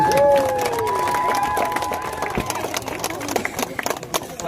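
Crowd at a marathon event breaks into scattered clapping and cheering, with a whistle-like tone near the start and a patter of claps that thins and becomes sparse toward the end.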